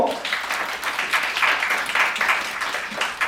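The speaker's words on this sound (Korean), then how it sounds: "박수 한번 부탁드릴게요." Applause from a camp concert audience at a youth talk event, a steady wash of many hands clapping that holds fairly evenly throughout without voices on top.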